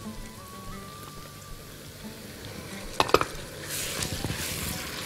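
Peppers, hot chilies and tomatoes being stirred in a pan, with soft sizzling and a few clear scrapes and clinks of the utensil against the pan around the middle, then a busier stretch of frying noise.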